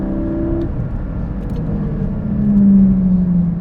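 Porsche GT4 driving on twisty roads, its engine rumbling steadily from inside the car with a brief rising tone near the end, no voices.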